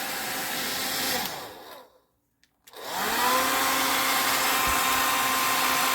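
Handheld hair dryer with a heating fault running on its high speed with heat: a loud, steady airflow whoosh and motor whine, briefly cut to silence as it is switched, then resuming strongly and holding.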